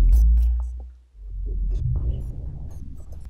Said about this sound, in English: This is the sculpture synth in Logic.